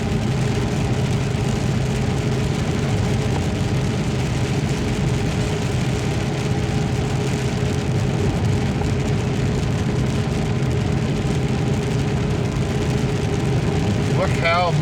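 Steady rain drums on a car driving along a highway at reduced speed, a dense, loud, unbroken wash of raindrops mixed with road and engine rumble.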